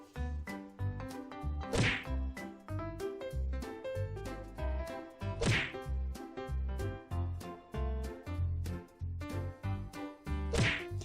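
Sharp thwacks of darts striking a dartboard in a children's animation, three spaced hits over a bouncy musical background.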